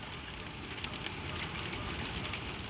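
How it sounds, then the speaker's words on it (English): Gentle rain patters in a continuous, even wash with soft droplet detail, close and steady for the whole stretch, with no talking. "you watch the rain run down the glass, threads of it, bright with the passing lamplight, sliding and joining and sliding again"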